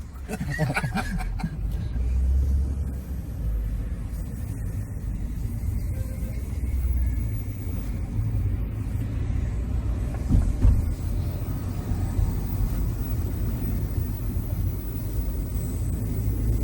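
A Mercedes-Benz B180 engine hums steadily from inside the car while driving, a low continuous rumble with road noise beneath people talking and laughing throughout.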